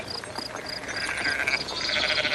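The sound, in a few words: sheep and goats bleating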